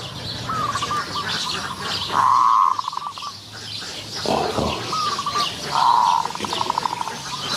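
Spotted dove fighting a caged decoy dove, with clear repeated cooing calls and chirps up close, bursts of wing flutter and scuffling between them.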